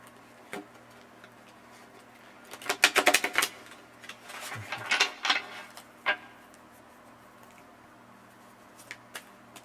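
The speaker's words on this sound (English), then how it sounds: "One more shuffle, and then we're going to check out the cards" Tarot cards are shuffled in a quick burst of crisp, riffling flutters, with a second shorter round a moment later. Soft isolated ticks and taps come before and after, over a faint steady hum.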